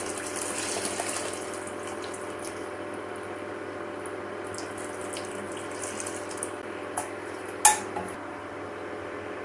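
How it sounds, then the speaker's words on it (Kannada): Tamarind water is poured into a pan of tomato rasam, giving a steady, soft trickle of liquid that runs under faint kitchen clatter, with a sharp metallic clink near the end. "ಹುಣಸೆ ಹಣ್ಣು ತಗೊಂಡು ನೀರಲ್ಲಿ ಕರಗಿಸಿ ಇಟ್ಟಿದ್ದೀನಿ ಈಗ ಇದನ್ನ ಇದಕ್ಕೆ ಸೇರಿಸೋಣ"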